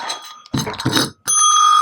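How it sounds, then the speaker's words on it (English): A hand bell rings with a loud, sustained metallic tone, following a short burst of excited cheering from a person celebrating a fully funded cash savings goal. "Here's my bell. Let me get my bell."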